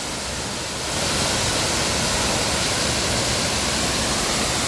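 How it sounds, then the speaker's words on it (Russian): Waterfalls in Sapadere Canyon, Turkey, pour with a loud, steady, broadband roar of rushing water that swells just after the start and then holds constant, close by with no voices. "Вот мы подбираемся к этим трем водопадам."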